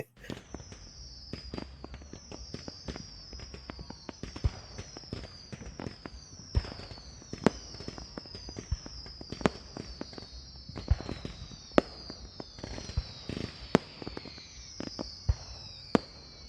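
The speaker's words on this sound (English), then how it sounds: "Cue fireworks now." Fireworks sound effect with a dense, continuous run of sharp pops and crackles, punctuated by louder bangs and whistling streaks, busy from start to finish.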